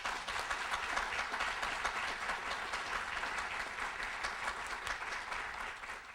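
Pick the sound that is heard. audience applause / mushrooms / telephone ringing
audience applause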